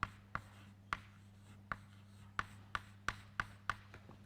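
Marker or chalk writing on a board during a chemistry lesson, a regular series of short sharp taps and strokes, about a dozen in four seconds, quiet and close over a low steady hum.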